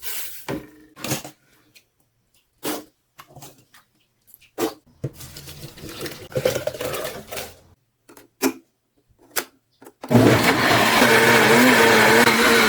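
A blender grinds soybeans loudly and steadily near the end, after a stretch of clattering kitchen noises and short bursts of motor sound.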